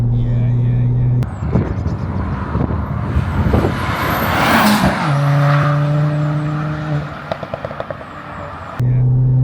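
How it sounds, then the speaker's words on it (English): A revving turbocharged Ford Fiesta ST engine roars and rises in pitch, with a high turbo whistle layered over it, close by and loud. "that turbo is whistling"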